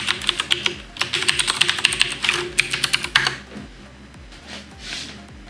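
Fingers type a username and password on a computer keyboard in a rapid, close run of crisp key clicks that thins out into a few scattered taps, with no voices.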